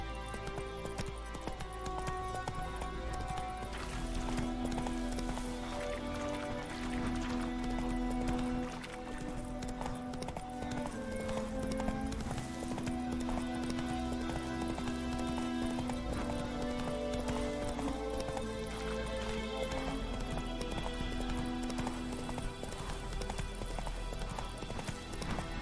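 Roach, a horse in The Witcher 3, gallops with steady clip-clop hoofbeats over continuous game music, with a brief whinny and no talking.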